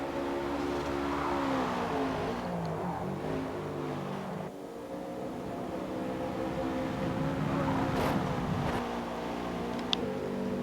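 Toyota GR86 race cars lap the Road America circuit, engines droning and revving continuously at a distance with shifting pitch, as a steady wash of racing noise with no voices.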